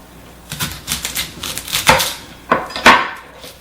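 A knife chops a red onion on a board in several distinct strokes, a few soft early taps followed by three louder, sharper cuts near the end, close and alone without any voice.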